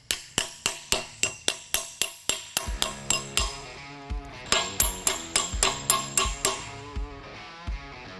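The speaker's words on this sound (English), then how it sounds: "We'll get this started and tap it down. Observe the baby hammer." A small hammer taps a crush sleeve down during axle and gear setup, sharp ringing metal strikes in a steady rhythm, close and clear, with brief pauses between groups.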